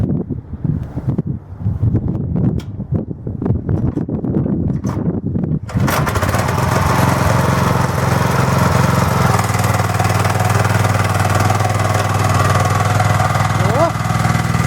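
A garden machine engine is pulled to start after some rustling and handling, then catches and runs with a steady, loud, close drone that continues to the end.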